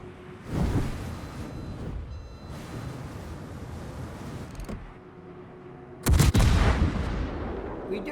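Heavy warship guns boom in a naval video game as salvos are fired at the battleship Musashi: a deep blast early on, rumbling battle noise throughout, and a louder, sharper burst of firing near the end.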